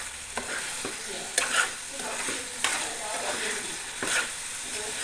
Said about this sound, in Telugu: బాగా అంతా ముక్కకి బాగా మిరియాల పొడి ఉప్పు పట్టేటట్టు కలుపుకోవాలి